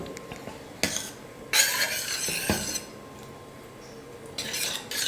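A spoon clinks and scrapes against a metal pot while mango kadayal (mango dal) is stirred with added salt, in a few separate bursts of scraping with quieter gaps between.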